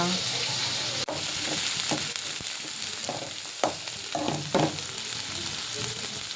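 Food fries in a pan for a North Karnataka pundi palya chutney, with a steady broadband sizzle and a few clattering stirs and scrapes throughout, no talking.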